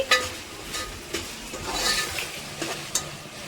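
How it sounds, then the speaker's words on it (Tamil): Tomatoes softening in a pan while cooking a tandoori chicken starter at home, a soft steady sizzle with a few sharp stirring clinks and scrapes, close and fairly quiet. "தக்காளி நல்லா சாஃப்டாக வதங்கிடுச்சு."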